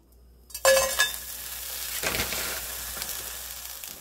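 Green onion and onion stir-frying in a pan, a loud sizzle bursting in and then settling into a steady crackle with a few soft scrapes of stirring close by.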